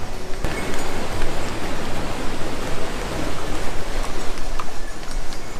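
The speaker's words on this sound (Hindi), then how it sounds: "अब काफ़ी ठंडा हो गया और हल्की हल्की बारिश भी होने लगी है" Light rain falls on a cold mountain pilgrimage trail to Kedarnath, producing a steady, loud wash of broadband hiss with no voices.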